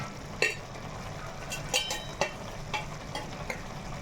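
Chicken masala gravy fries in a kadai as chilli powder is added, a soft steady sizzle broken by several sharp clinks and scrapes of a spoon against the pan.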